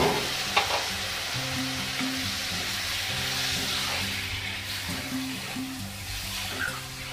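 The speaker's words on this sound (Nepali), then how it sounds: "मसलालाई 1 मिनेट जति राम्रोसँग भुटिसकेपछि अब म यसमा टमाटर राख्छु" Tomatoes hiss and sizzle as they go into spice masala frying in a pan for a Nepali tofu curry, a steady crackle with occasional stirring scrapes and no talk.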